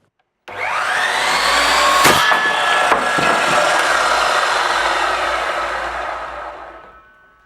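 A power saw cutting a small wooden workpiece for a toy car runs loud and sustained, with a few sharp snapping bursts in the middle as the blade catches the wood, then winds down.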